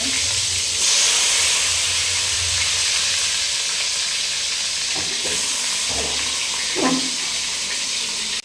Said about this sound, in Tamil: ஆயில் வந்து நல்லா சூடானோன்னு தக்காளி போடலாம்